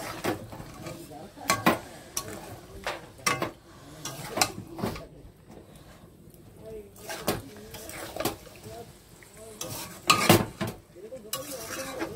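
Whole onions fry in a wok-style pan, with uneven clanks and scrapes of stirring, a pan being tipped, and low sizzling between, while a person talks intermittently nearby.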